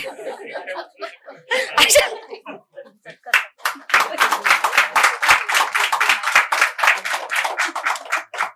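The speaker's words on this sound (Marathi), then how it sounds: "जोरदार टाळ्या होऊ दे" An audience at a home Ganpati decoration contest prize ceremony breaks into a burst of lively clapping after a brief pause, mixed with laughter and talk, the applause running dense and close for several seconds.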